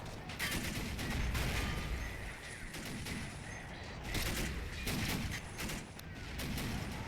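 Dense battle gunfire and heavy tank cannon fire from Sherman tanks during a D-Day style beach assault in a video game, a continuous loud rattle of shots with repeated heavy bursts and no talking.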